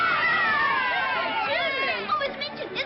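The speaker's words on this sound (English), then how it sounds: "Do you hear the cheering?" A crowd cheers and shouts outside at news of the relief of Mafeking, a dense mass of voices with rising whoops and hollers, loud and sustained.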